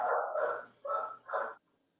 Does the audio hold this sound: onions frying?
no